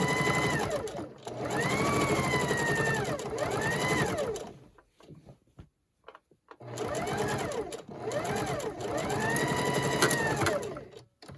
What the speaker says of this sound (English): fold this other piece of fabric flat, and sew away